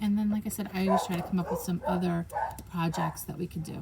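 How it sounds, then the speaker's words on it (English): A pet dog barks and yips repeatedly indoors, mixed under continuous close talking by a woman. "you can hear my dog barking"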